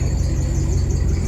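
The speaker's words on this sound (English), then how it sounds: "The serpentine belt that's making that noise" A serpentine belt on a Mitsubishi Eclipse squeals steadily in a garage, a continuous close, fairly loud whine with a low rhythmic engine pulse beneath, and no voices.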